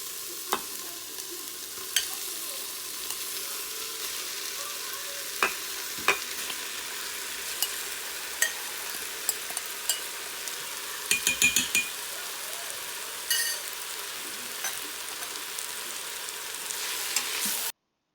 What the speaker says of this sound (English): I'm gonna let the natural sound, cooking sounds come through so that you can tell how hot it is when you add the